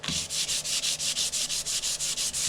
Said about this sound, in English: And I don't have to sand it really crazy.